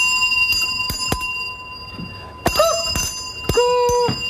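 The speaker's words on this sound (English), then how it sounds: "No, the bell went." A game-show style bell in the Celebrity Big Brother house rings in short bright bursts, several sharp strikes with sustained tonal tails spaced across the span, loud and close over a steady background hum.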